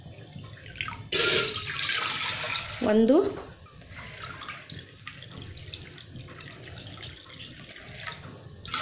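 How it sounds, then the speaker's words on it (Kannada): Water is poured into a cooking pot, about two cups, to make rice flour dough for ottu shavige (rice noodles): a short, loud splashing pour close by, with a voice counting aloud and quieter kitchen sounds afterward. "2 ಕಪ್ನಷ್ಟು ನೀರು ಹಾಕ್ಕೊಳ್ತೀನಿ."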